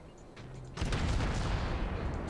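Warship naval guns fire in a video game, a heavy close burst that starts partway through and rumbles on with overlapping booms after a quieter stretch of ambient noise.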